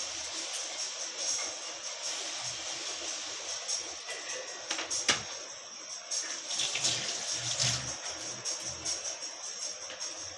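Water poured in a thin stream onto jaggery sugar in a cooking pan to melt it, a steady soft trickle and splash running for several seconds, fairly close and moderately quiet, with no talking.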